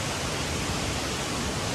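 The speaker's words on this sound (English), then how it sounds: "This is a waterfall that's used in a lot of hair commercials, apparently." A waterfall in Tropical North Queensland rushes in a continuous, dense roar, loud and close, with no other sounds standing out.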